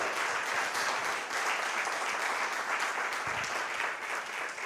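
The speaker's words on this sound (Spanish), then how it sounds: "Vamos a darle un aplauso a Dios." A church congregation gives loud, continuous applause during a worship service, a dense and even roar of many hands clapping with no break.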